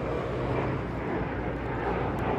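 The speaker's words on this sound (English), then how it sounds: "Airplane." A broad, steady engine roar of an airplane passing overhead near an airport, loud and continuous throughout with no break.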